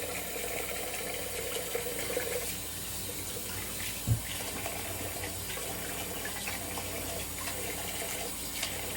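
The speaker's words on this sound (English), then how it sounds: "now I'll give a medium water rinse" Tap water runs steadily into a sink for a rinse during a wet shave, a continuous close gush with one brief knock partway through and no talking.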